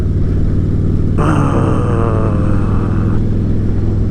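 A motorcycle engine lugging in the wrong gear chugs low and heavily at low revs, a steady rough rumble with a brief strained rise partway through.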